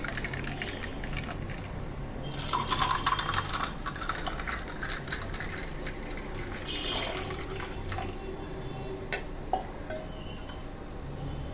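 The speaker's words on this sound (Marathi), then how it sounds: "आपण यात पाणी टाकून घेऊया" Water poured into a lemon and mint drink, a continuous close splashing stream running the whole time with a few faint clinks, no talking.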